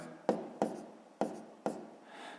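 A pen writes numbers on paper during a fifth-grade maths exercise, making four close, sharp taps, each followed by a short scratchy stroke, with a soft rubbing scratch at the end.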